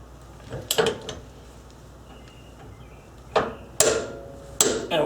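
Heavy wrench work on a Honda S2000 rear end as a fastener is tightened to 180 foot-pounds. Several sharp metallic clunks and knocks come close by, widely spaced over a quiet background.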